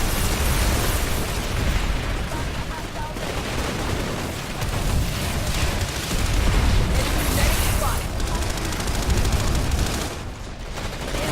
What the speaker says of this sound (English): Rocket pods in as well